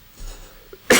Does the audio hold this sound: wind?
no